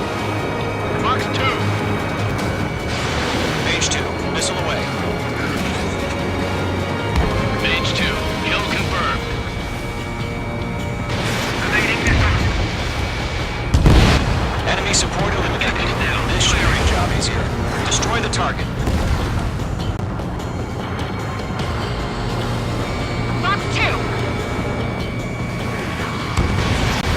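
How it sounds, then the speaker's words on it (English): Jet combat in Ace Combat 7: missile launches and explosions as sharp bursts and whooshing swells over a constant roar of engines and busy game sound, with radio chatter throughout. "Mage 2, missile away."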